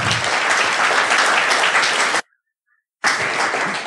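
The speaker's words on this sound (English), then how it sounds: "So big applause to the Workspace team." A conference audience applauds the Workspace team at Nextcloud Conference 2022, steady dense clapping for about two seconds, a brief silent gap, then the applause resumes just as full.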